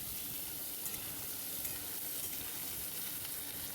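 Cut potatoes fry in a pan, a steady dense sizzle with faint scraping as they are stirred, continuous and even, with no one talking.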